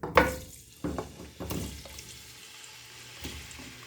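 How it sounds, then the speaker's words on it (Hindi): Raw chicken tipped into a karahi holding plenty of hot oil over high heat, giving a sharp burst of sizzling followed by a few more crackling spurts as pieces settle, then a steady low fry. "अब ये मैं चिकन इसमें ऐड कर रही हूँ"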